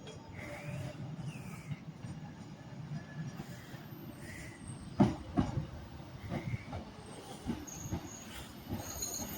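A Class 156 diesel unit, 156480 in RAF livery, rolls into Carlisle station on the West Coast Main Line, its wheels squealing over a steady low rail rumble, with a few louder clanks midway.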